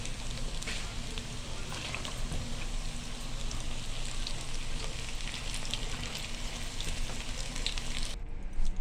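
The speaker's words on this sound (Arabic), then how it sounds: "خلاص خلصنا تحمير القرنبيط" Cauliflower florets frying in hot oil give a steady, dense sizzle that stays loud and even throughout, cutting off abruptly just before the end.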